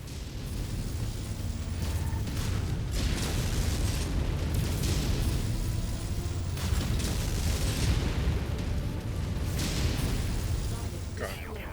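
Incoming missiles exploding in MechWarrior 5: Mercenaries during a battle on Sarna, several heavy blasts and rumbling bursts spread across a loud, continuous combat mix, with a voice talking underneath.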